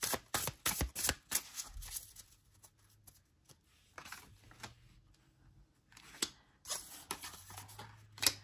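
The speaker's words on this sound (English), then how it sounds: "And I know y'all see me shuffling." Cards being shuffled in repeated bursts of crisp riffling and snapping, close up, separated by short quiet pauses.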